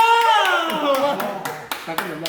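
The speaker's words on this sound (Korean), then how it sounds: "와 박수!" A few people at a Haeundae table tennis club clap in a quick, regular rhythm, the sharp claps sounding under a loud, drawn-out voice.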